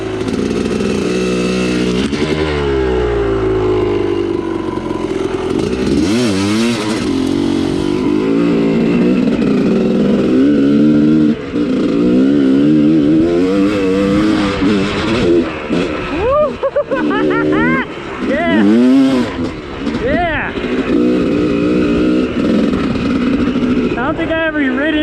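A dirt motorcycle on an IRC front tire rides through mud after rain, its engine loud and close and revving up and down in repeated swells while a voice speaks over it.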